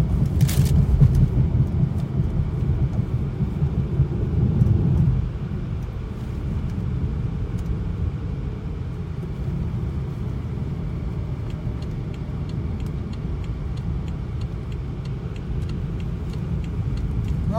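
Car driving along a road with a steady low engine and road rumble heard from inside the cabin, a little louder at first and then settling into an even drone.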